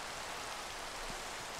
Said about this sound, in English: And as you see, it automatically rains.